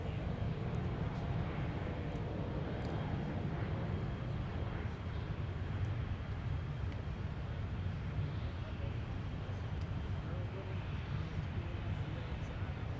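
An American Airlines airliner taxiing at Minneapolis–St. Paul airport gives a steady, broad engine rumble and roar that holds evenly throughout, with a voice speaking over it.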